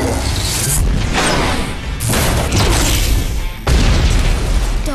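A plasma bombardment attack in the Monsuno cartoon sets off a series of loud, booming explosions with crashing bursts. The blasts come one after another, each hitting with a sharp, strong impact.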